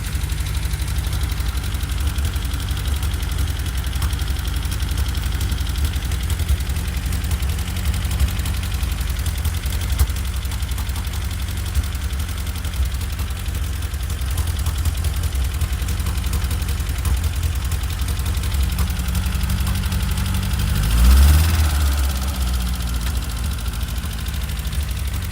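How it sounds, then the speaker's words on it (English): Engine idling unevenly on choke just after its first start, a steady close mechanical drone with a slightly lumpy pulse and a brief swell near the end, no talk. "still running a bit lumpy, but it's still on choke at the moment."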